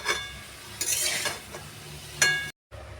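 Chicken stew with onions is stirred in a pot over the heat, with soft frying hiss and a couple of louder scraping stirs before the sound briefly cuts out.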